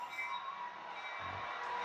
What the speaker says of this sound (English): Let's keep the train going.